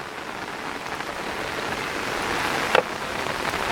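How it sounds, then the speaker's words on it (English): Heavy rain pours down in Cary, North Carolina, a dense, continuous hiss of falling water, close and loud, with one sharp spatter near the end. "it's raining very hard."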